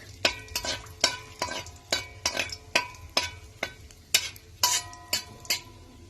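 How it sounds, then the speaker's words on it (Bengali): Whole spices—bay leaf, cinnamon, cardamom and cloves—frying in hot oil while a utensil stirs them, a rhythmic series of sharp scraping clinks about twice a second over a light sizzle, close and fairly loud. "এটা একটু ভাজা ভাজা হয়ে যাক।"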